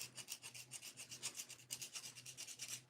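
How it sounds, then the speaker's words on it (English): Quick, rhythmic scratching strokes of sandpaper rub back and forth against a hard plastic Bild Lilli doll, steady and close, with a faint hum underneath. "do not know if that's sanding down properly."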